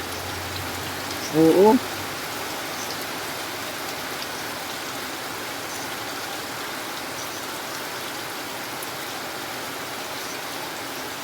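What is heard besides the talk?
heavy rain falling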